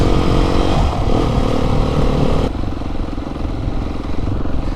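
Motorcycles ride along a green lane, their engines a steady, fairly loud rumble that runs unbroken through the clip and drops slightly in tone midway.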